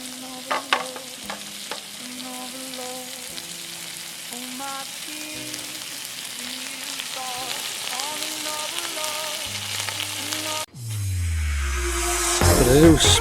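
Breakfast fries and sizzles in a pan on a stove at a carp fishery, a steady crackle running throughout with faint clinks and a louder rush of sizzle at the end.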